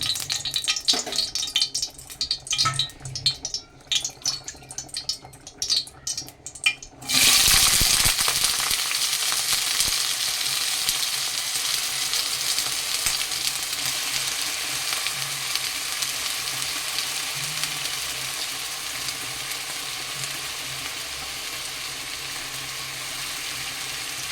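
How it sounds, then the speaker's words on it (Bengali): Potatoes slide into hot oil in a wok and set off a sudden loud sizzle. Quieter rattles and kitchen clatter come first, then the frying stays steady and close, easing off slowly. "তেলটা আমার গরমও হয়ে গেছে, আমি আলু ভাজাটা বসিয়ে দেবো"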